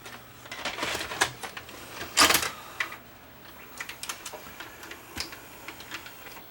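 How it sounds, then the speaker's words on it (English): An old VCR with a missing tension spring loads a videotape, giving a busy run of mechanical clicks, ticks and whirring, with one louder clunk midway, close and without speech. "Watch when I load the tape."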